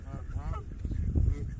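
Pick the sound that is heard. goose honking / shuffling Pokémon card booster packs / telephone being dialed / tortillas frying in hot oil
goose honking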